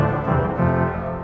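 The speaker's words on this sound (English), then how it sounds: "The 16 foot" An Austin pipe organ at First Baptist sounds its 16 foot trumpet reed stop, a dense, sustained brassy chord with deep bass, steady and loud for the whole moment with no talking.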